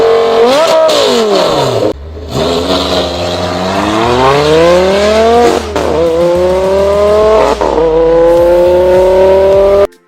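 A 2012 Lamborghini Gallardo LP 570-4 Spider Performante races in a Need for Speed game, its engine loud and close as it revs, shifts through gears and climbs again, with no talk.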